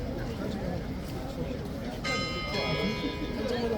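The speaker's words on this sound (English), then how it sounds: "There's the bell, folks, that we were waiting for." A bell rings at the Horse Guards ceremony in London, its steady tone sounding from about two seconds in and sustained over a busy outdoor crowd murmur, with people talking nearby.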